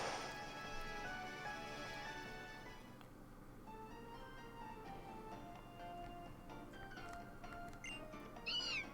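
A cat meows in the Pokemon Alpha Sapphire video game, a few short electronic mewing calls near the end over continuous game music, with no talking.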